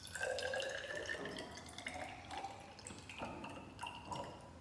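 Distilled water, about 40 cubic centimetres, is poured into laboratory glassware, giving a close trickling and splashing pour with small drips and clinks and no voices.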